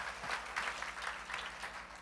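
A church congregation claps together during a New Year's service, a full, steady round of applause from many people, moderately loud and heard on its own.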